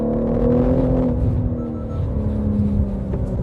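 A BMW M3 G80 engine roars as the car accelerates, its loud, close droning tone sliding in pitch through quick gear changes with a steady rumble underneath.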